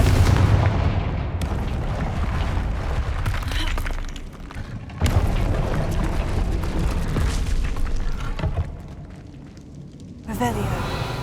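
Confringo blasting spells detonating in the Hogwarts Legacy video game: heavy booming explosions rolling one into another, loud and dense throughout, with a brief lull before another burst near the end.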